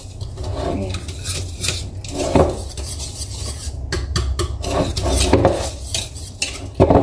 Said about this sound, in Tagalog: After nating ihalo lahat, ihalo na natin yung liquid.